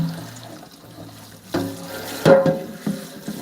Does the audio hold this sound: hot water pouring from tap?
yes